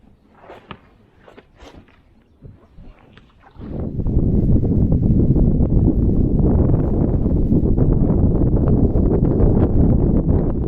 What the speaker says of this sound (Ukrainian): дуже здійнявся сильний вітер